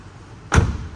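A single soft electric pop as the fuel filler door of a 1995 Nissan Cedric Brougham springs open, a short close thump standing alone after quiet.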